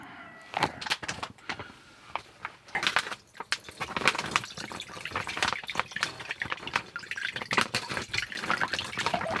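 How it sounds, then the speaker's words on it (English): Water being poured and splashed out of a yellowjacket trap holding many caught wasps, a close, busy stream of irregular drips and spatters lasting several seconds with no talking. "I'm gonna go ahead and dump the water out and we're gonna do a count."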